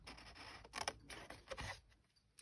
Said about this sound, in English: we're going to cut up there, and we're going to cut up there